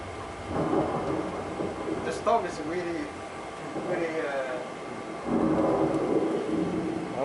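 Thunderstorm in a Level-D flight simulator, heavy rain and low rumbling thunder rising and falling while people talk over it.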